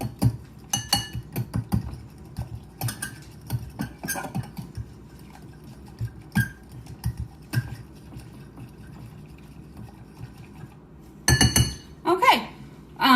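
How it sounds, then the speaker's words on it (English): Finely milled powder being stirred into water with a utensil in a kitchen bowl or glass, giving repeated clinks and scraping taps in short bursts, close and moderately loud, with a few louder clusters near the end. "This one takes a little more stirring to get it incorporated with the water."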